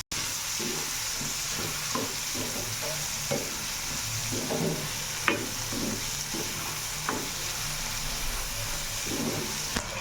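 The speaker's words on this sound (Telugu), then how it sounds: "పచ్చిమిరపకాయలు వేగిన తర్వాత కొన్ని ఉల్లిపాయలు వేసుకుని బాగా సన్నగా తరుక్కున్న ఉల్లిపాయలు కూడా వేసుకుని దాన్ని బాగా కలుపుకోండి." Green chillies and finely sliced onions fry in a pan for a tamarind leaf curry, giving a steady sizzling hiss broken by repeated rhythmic scraping knocks from stirring.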